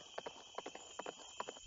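Horses walking with their hooves clip-clopping in a steady, evenly spaced rhythm of soft double beats, close and fairly quiet against a faint high hum.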